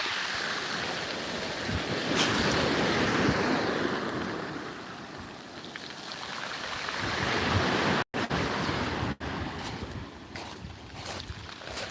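Sea waves wash steadily against a Jamaican shore: a loud, continuous surf roar that swells and eases, with no voices and two abrupt dropouts near the end.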